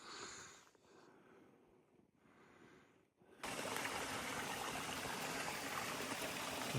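Steady broadband rush of a creek in the Yosemite backcountry, close and loud, starting quieter with rustling before the full stream noise takes over.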